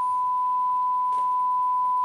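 A single steady pure 1 kHz test tone from a Pioneer A9 amplifier holds at an even level for the whole stretch, with only a faint hiss of background noise around it.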